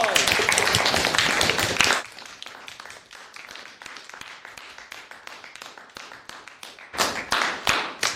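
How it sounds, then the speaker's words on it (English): A small audience claps in a classroom, brisk applause at the start, then scattered taps, then a short second burst of clapping near the end. "Everybody give him a round of applause."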